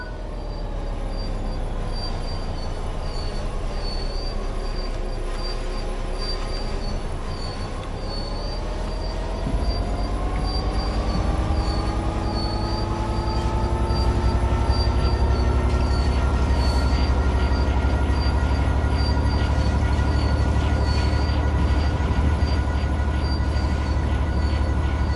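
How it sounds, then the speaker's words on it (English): In the video game Train Sim World 5, a train coasts on level track with the throttle off, giving a steady rolling rumble close by and long high wheel squeals that rise and drift for the whole stretch. "The train will then coast on level ground, and the train will only slow down very gradually."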